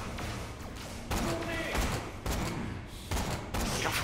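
Enemies in Borderlands The Pre-Sequel pour out a fusillade of bullets, close and loud, in dense bursts broken by short pauses, with a voice talking underneath.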